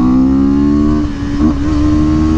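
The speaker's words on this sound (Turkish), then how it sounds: "Bakın şimdi iyi izleyin, birden gaza asılacağım." A CLX 700 Sport motorcycle engine is revved hard on a sudden throttle opening, a loud close roar that holds steady, dips briefly and climbs again; no talking.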